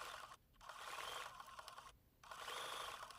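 A sewing machine runs in quick whirring bursts, stitching raw edge applique around a spatula-handle shape on a quilt block, with two brief pauses between runs and no talking.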